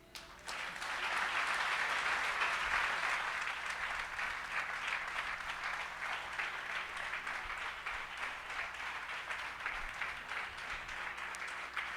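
A large congress audience applauds in a dense, sustained wash of clapping that starts abruptly, holds steady at a distant level for the whole stretch, and has no speech over it.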